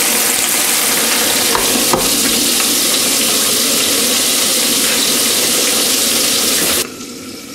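Cauliflower fungus frying in a pan gives a steady, loud, close sizzle that holds evenly for several seconds, then drops away abruptly near the end.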